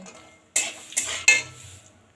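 Cashew nuts fried in white oil are stirred in a pan, giving three sharp metallic scraping clatters of a spatula against the pan, close and clear with a faint sizzle beneath.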